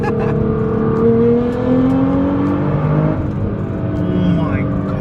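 A sports car, either a Nissan R35 GT-R or a BMW M4 GTS, accelerates hard at full throttle without shifting, its engine note climbing steadily and loud from inside the cabin as people talk over it.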